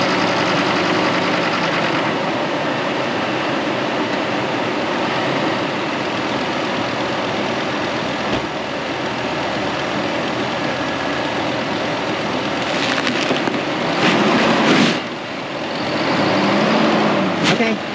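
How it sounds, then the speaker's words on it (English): A tow vehicle's engine runs steadily as it drives up onto ramps, a continuous close rumble that swells slightly near the end, with people talking over it. "he's gonna drive it up on the ramps"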